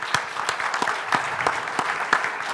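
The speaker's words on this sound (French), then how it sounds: "Cédric Baron, on applaudit très fort." Audience applause at an investment-management round table, a dense steady clapping with sharp individual claps standing out, sustained and fairly close throughout.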